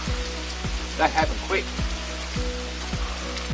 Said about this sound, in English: I'll just wait till the rain stops so I can move on again.